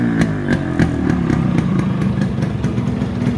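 A restored Yamaha RX-100 motorcycle engine runs at a steady idle. It sounds loud and close, with an even, rhythmic chain of exhaust pulses and mechanical clatter, and no voices.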